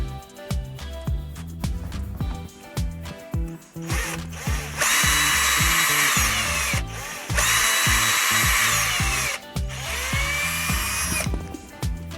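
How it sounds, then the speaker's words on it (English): A power drill whirs loudly in three long bursts, biting into timber with a grinding edge while hanging a roller blind, preceded by rhythmic knocking and handling noises. "so then when you drill into the timber"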